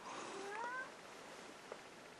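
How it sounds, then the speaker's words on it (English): A house cat gives a short, quiet meow with a rising-then-falling tone early on, followed by faint room hiss and a tiny click. "And that is my cat."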